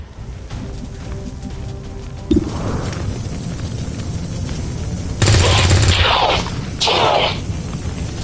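Heavy automatic gunfire crackles through a PS4 shooter, steady rapid bursts with sharper loud volleys and blasts in the second half, mixed with game effects and a faint voice in the background.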